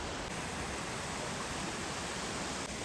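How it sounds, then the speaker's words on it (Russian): A small, ordinary waterfall in Iceland, one that does not drop down a mountainside, gives a steady, close, broadband rush of falling water that holds constant throughout with no voices. "Вот вторая локация, второй водопадик"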